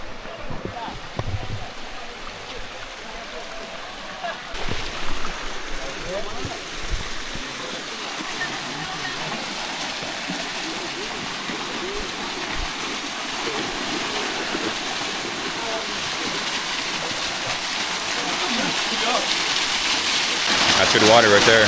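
A waterfall and stream rush steadily along a trail in Pai, Thailand, a broad continuous wash that grows louder toward the end, with people talking over it at times.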